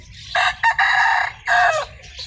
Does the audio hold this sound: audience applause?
no